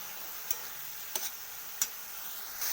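Spinach cooks down in a pan as its water boils off, giving a soft, even hiss with three or four light clicks of a stirring utensil against the pan.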